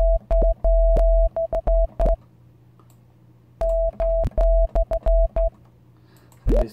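Serum synthesizer patch using hard oscillator sync modulated by a fast LFO, playing choppy repeated tonal bursts with short gaps between them and no voices.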